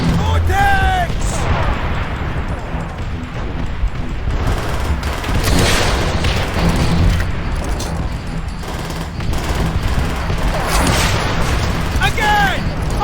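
Panzerschreck rockets and tank explosions in the Call of Duty: World at War campaign, with dense booming blasts and rumbling gunfire under shouted battle voices.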